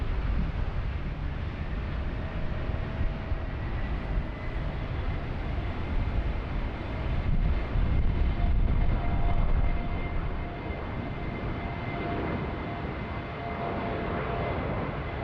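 QJet 1533 jet airliner in Tassie Devil livery rolls for takeoff at Sydney Airport, bound for Hobart, a steady broadband engine roar at a distance that swells slightly midway, with no speech.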